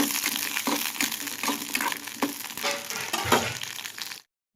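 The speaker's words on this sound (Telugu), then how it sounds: "ఒక పక్క ఫ్రై అవుతూ ఉన్నాయి పచ్చిమిర్చి" Green chillies fry in a pan with a steady, loud crackling sizzle and frequent popping spits, close up and continuous until it cuts abruptly to silence; no one speaks.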